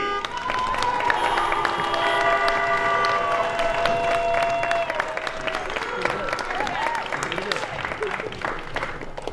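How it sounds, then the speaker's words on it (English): A crowd at a 2020 high school graduation ceremony breaks into sustained, steady applause with some cheering, while a few tonal whistles or calls rise above the clapping in the first half. "Give them another round of applause, please."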